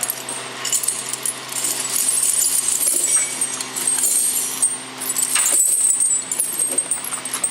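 Winter tire chains fold over the inside drive tire of a vehicle, giving a steady, close run of light metallic clinking and jangling links with no talk.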